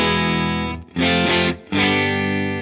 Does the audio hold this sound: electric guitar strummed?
yes